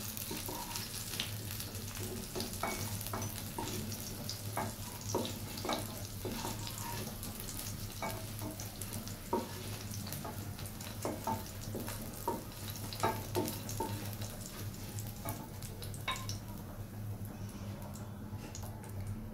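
Taki fish (Channa punctata) frying in oil in a pan for a dal with taro stems, a continuous close sizzle and bubbling crackle throughout with faint clicks of a utensil, no voices.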